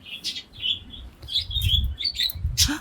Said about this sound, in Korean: 이상하게 새소리가 나더라.